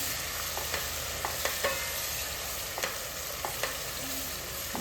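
Stew for Tuo Zaafi being stirred in a pot, a continuous simmering hiss broken by scattered soft clinks and scrapes of the spoon, close and steady without speech.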